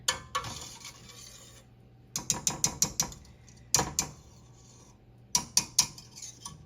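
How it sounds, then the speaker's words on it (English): Chocolate chunks stirred into a mixture in a pot for no-bake chocolate peanut butter oatmeal cookies, a run of sharp utensil taps and scrapes against the pot coming in quick clusters with short pauses, no talking. "I'm going to get all those chocolate chunks mixed in here"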